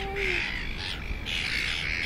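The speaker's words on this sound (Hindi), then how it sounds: "So many birds." Several crows caw and squawk outdoors in a city under lockdown, with harsh calls repeating against a steady background hum and no talking.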